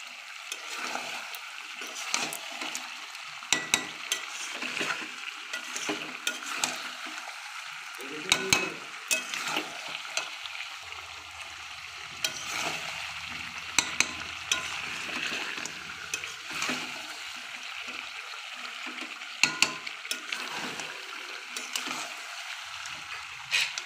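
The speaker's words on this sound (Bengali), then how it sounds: "দেখো আমার মাংস কষা হয়ে গেছে" Meat being stirred and sautéed for kosha in a pan, with a continuous sizzle broken by repeated scraping and clattering of a spatula against the metal.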